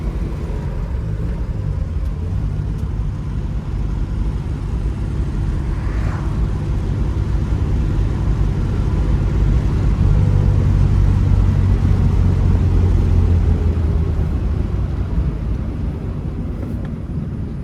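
A 1958 Jaguar XK 150 drives along, its engine droning steadily with a rise in pitch and load midway as gears are shifted, mixed with road and wind noise and no talking.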